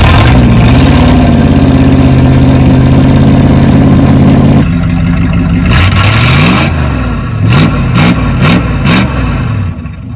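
A farm engine that drains its fuel back to the tank is started and run: a loud steady idle at first, then a drop and a series of rising revs and sharp bursts.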